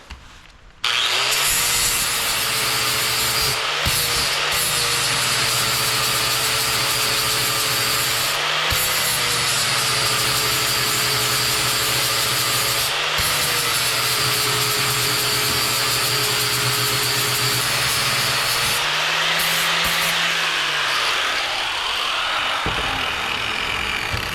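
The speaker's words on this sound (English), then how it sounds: "So I'll just I'll put those in my mill and we'll get started. It's a hand mill." A hand-operated milling machine cuts raised bosses flat on a GM 10-bolt axle part, producing a loud, steady grinding and whirring drone with a low hum. It starts abruptly and has a few brief dips in level.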